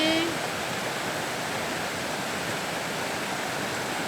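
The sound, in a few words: mountain torrent flowing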